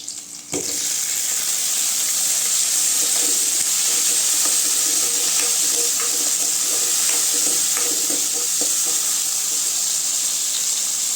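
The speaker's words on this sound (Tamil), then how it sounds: "தக்காளி கொஞ்ச நேரம் வதங்கட்டுங்க" Tomatoes sizzle in a pan with sautéed onions for bottle gourd thokku, a steady close frying hiss with faint stirring clicks and no talk.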